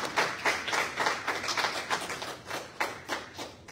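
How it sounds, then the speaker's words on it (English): Audience at a temple satsang gathering clapping for the kirtan musicians, a moderate crowd producing steady, fairly close hand claps with rhythmic pulses, no talking over it. "Give them a lovely round of applause, please."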